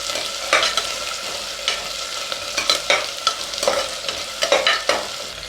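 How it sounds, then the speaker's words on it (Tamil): Onions sauté in hot oil in a pan as a spoon stirs them: a continuous bright sizzle broken by repeated scraping strokes, close and moderately loud. "நல்லா வதக்கிக்கோங்க."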